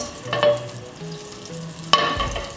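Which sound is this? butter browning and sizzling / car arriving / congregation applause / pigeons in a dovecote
butter browning and sizzling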